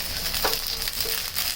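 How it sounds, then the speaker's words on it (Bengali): Slit green chilies frying in oil on low heat, a soft continuous sizzle with faint stirring clicks, close and fairly quiet. "এবার আমরা হালকা আঁচে ভেজে নেব কিছু কাঁচামরিচ"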